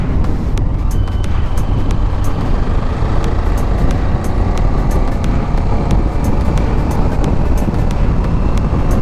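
QJMotor Race 450 motorcycle engine roaring through a tunnel, a loud dense continuous drone with echoing reverberation and rushing wind, with sharp ticks recurring throughout.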